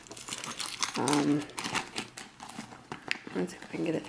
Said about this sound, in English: These are my keys. I have 2 car keys, loyalty cards,